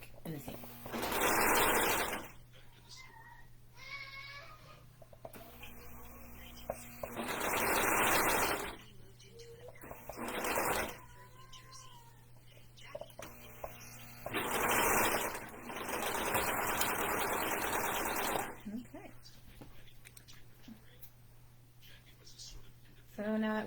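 A serger sewing machine stitching a waistband seam runs in several loud bursts of rapid whirring, each a few seconds long, separated by quieter pauses with soft talk and fabric handling close by.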